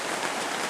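Heavy rain drums steadily on a tent, a dense, close, constant hiss of drops with no pauses and no voices.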